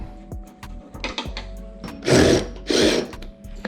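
A ratchet removing car bumper bolts clicks in quick, short bursts, followed by two louder, longer whirring spins, close by and with no talking.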